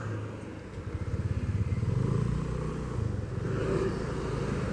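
Motorcycle riding through the streets of Bojonegoro city, its engine pulsing with a steady rapid throb as it rolls along, close and fairly loud against wind and traffic noise.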